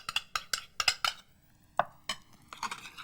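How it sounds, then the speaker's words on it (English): Kidney beans being mashed together with a spoonful of tomato paste in a bowl, a run of close, quick clattering knocks and scrapes in uneven bursts with short pauses. "I'm using kidney beans, which I then mash and stir in a tablespoon of tomato paste"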